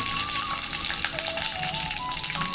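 Tomatoes frying in hot ghee in a pan for a tomato vegetable masala sambar, a steady loud sizzle and crackle that continues without a break and with no voices.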